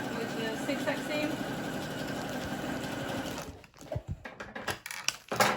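A sewing machine runs steadily, sewing a zigzag seam over elastic on wide trousers, a close, rapid mechanical whir for several seconds before it stops and gives way to scattered handling noises.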